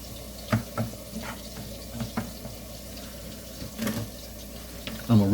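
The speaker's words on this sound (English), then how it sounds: "I'm going to rinse off my mushrooms." Tap water running into a kitchen sink while mushrooms are rinsed, a soft continuous splash with a few louder clatters and a burst near the end.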